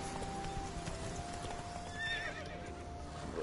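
Roach, a horse in The Witcher 3 video game, lets out a clear whinny over steady clip-clopping hooves at a gallop, close and fairly loud, with no talking.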